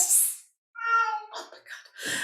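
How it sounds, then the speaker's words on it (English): A house cat lets out a clear, drawn-out meow, close and moderately loud, between brief bursts of indoor noise, with no speech over it. "I'm sorry, that's my cat."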